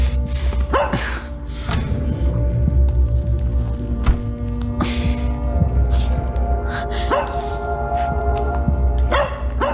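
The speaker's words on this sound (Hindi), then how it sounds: "ओह, ये पिल्ला कुछ बता रहा है।" A puppy barks in repeated sharp yips, close and loud, over steady background noise and a busy scene with a gasp and creaking sounds.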